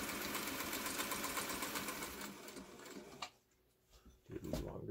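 A Singer 301 sewing machine stitches fabric on a long stitch setting, running as a fast, close mechanical whir for a few seconds before stopping briefly and restarting with a couple of short bursts.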